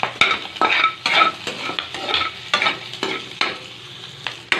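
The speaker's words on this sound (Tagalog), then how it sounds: "igigisa na natin ang ating laing. Ayan. Lagay na natin ang luya." Taro leaves (laing) with ginger sauté in a pan, giving a steady close sizzle under rhythmic stirring scrapes, about one stroke per half second, with no voices.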